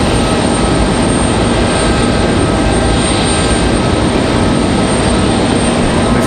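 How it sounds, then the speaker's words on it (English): Rolls-Royce Trent engines spooling up on an American Airlines Boeing 777 during start after pushback, a steady, loud broadband jet rumble with a faint high whine holding throughout. "Thought I heard those Trents starting up over there"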